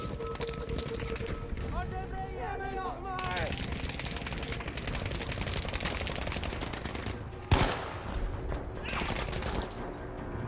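Shotgun fire in a video game: one sudden, loud blast stands out sharply over a steady bed of busy game noise and other distant gunfire, with a brief echo after it.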